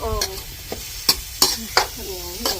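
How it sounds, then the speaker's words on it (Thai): Ingredients dry-roasted in a pan and stirred, giving a few sharp scraping strokes spaced irregularly over a soft background sizzle, close by with no talking. "ตอนนี้กำลังคั่วอย่างนี้เจ้า"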